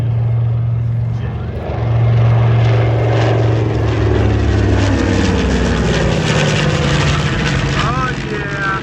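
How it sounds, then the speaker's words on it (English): PBJ bomber making a strafing run at an airshow, a loud throbbing piston-propeller roar that swells and passes with shifting pitch, with a voice talking over it. "Beth Jenkins and Miss Ashley Shelton, an all-female crew up front, demonstrates a strafing run from the PB-J"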